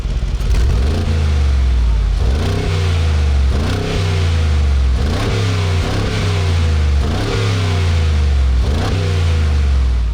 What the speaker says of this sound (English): You press that, it shows on the screen that the sport exhaust is on, and then it sounds amazing.